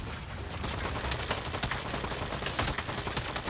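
Rapid gunfire in the Saints Row video game as a player shoots at green creatures, a dense, continuous crackle of shots with sharp transients running steadily throughout, fairly loud and without speech.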